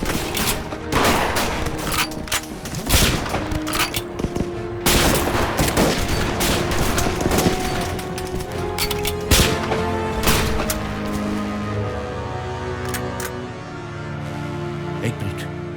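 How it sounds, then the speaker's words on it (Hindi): Sustained gunfire in a war drama, with dense bursts of rifle and machine-gun shots, loud and close, rolling on and off across the scene with occasional heavier booms. "गोलियां चलाता ना मेरे भाई।"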